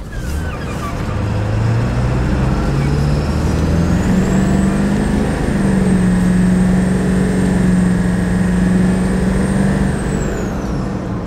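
A 1999 Ford F250 pickup with the 7.3 engine and a gutted catalytic converter accelerates hard, its loud, steady diesel drone climbing in pitch as a turbo whine rises and holds over about eleven seconds, close and without talk.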